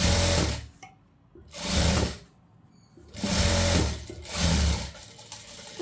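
A sewing machine stitches a silk skirt and blouse in four loud bursts of rapid stitching, separated by short quiet pauses.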